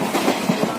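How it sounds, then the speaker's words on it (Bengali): Train carriage rumbling along during a rail journey toward Kalka, with a steady low rumble and rhythmic wheel thumps roughly every fraction of a second, close and continuous with no voices. "এই হচ্ছে ট্রেন।"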